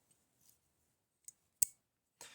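Spring-loaded scissors give a few sharp, isolated clicks and snaps as they are opened and locked, close by and otherwise quiet between sounds.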